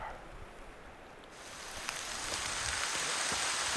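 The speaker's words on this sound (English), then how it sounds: "it has started to actually rain" Soft rain begins pattering, a faint hiss that swells after a moment into a steady patter with occasional drips.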